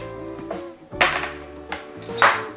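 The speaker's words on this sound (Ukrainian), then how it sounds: "Ріжу м'ясо на порційні шматки" A knife cuts raw pork into portion-sized pieces on a kitchen board, giving three or four sharp, close chopping knocks spaced irregularly over a couple of seconds against faint background hum.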